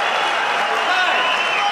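A roaring crowd at a kickboxing match cheers and claps loudly and continuously at a knockout, a dense wall of noise with a commentator's voice mixed in.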